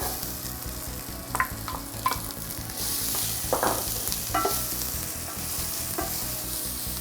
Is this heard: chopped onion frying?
yes